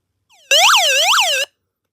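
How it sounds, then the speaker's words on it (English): A weather radio's loud SOS siren sounds close and alone: a faint chirp, then a piercing electronic wail that sweeps up and down twice in about a second before cutting off sharply. "And this is its siren. One of it's very loud for SOS."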